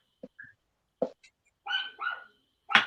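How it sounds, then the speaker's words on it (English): Quiet, scattered dog barks and yips, a few short ones spaced apart, heard faintly at a distance with no talking. "the barking's probably getting annoying to everybody"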